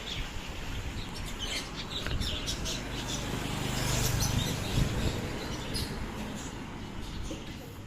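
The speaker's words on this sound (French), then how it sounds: "Petits oiseaux" Small birds chirp faintly in an outdoor setting in Phang Nga, Thailand, a town ringed by mountains, their scattered high tweets sitting over a steady broadband wash of ambient noise and distant low rumble.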